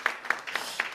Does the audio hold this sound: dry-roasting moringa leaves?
no